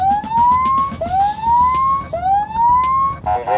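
An escort vehicle's siren in an oversized Airbus aircraft transport convoy, sounded as a warning to animals and pedestrians: three rising wails repeating about once a second over road rumble, loud and close.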